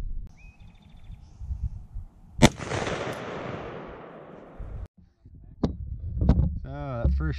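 An AR-15 rifle loaded with 5.56 green tip rounds fires a single sharp, loud shot at a military helmet, followed by a long ringing decay and then quiet talk.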